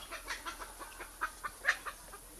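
Guinea fowl give a string of repeated, rhythmic cackling calls at moderate distance, some notes sharper and louder than others, over a steady background hiss with no voices.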